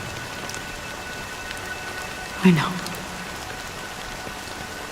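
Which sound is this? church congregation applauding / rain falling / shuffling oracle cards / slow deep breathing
rain falling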